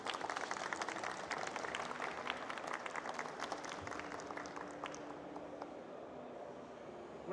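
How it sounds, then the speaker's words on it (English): An audience at a DevOps conference talk bursts into applause after the speaker finishes, a dense clatter of many hands that gradually thins and fades toward the end. "You can also clap now."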